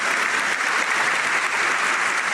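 A live podcast audience applauds steadily and loudly, with dense clapping and a few cheers that hold at an even level throughout, without a break.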